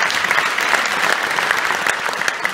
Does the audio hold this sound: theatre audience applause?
yes